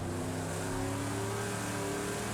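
A Camaro Z/28 racing in Project Cars 2 holds a steady, loud engine drone with a rising rev and a strong low tone throughout.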